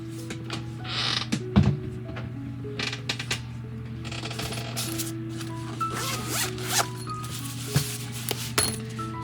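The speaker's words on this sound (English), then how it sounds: "We'll start grinding." A grinder works on the hull of a 1:400 scale model of the S.S. Edmund Fitzgerald, producing a steady mechanical whine with scraping, creaking and clinking as the tool bites in and lifts off, close and fairly loud throughout.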